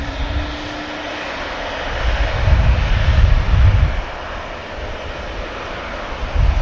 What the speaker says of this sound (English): Prop aircraft.